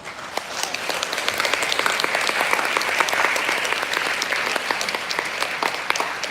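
An audience applauds finalists at a graduation ceremony with sustained, even clapping, individual sharp claps standing out across the steady crowd noise.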